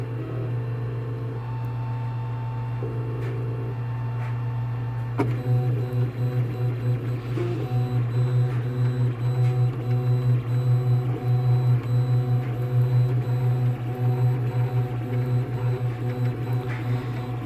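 A Bizer CTC 3D printer runs a print job with a steady low motor hum and shifting whirring stepper tones, becoming busier and more rhythmic partway through, close and moderately loud with no one talking.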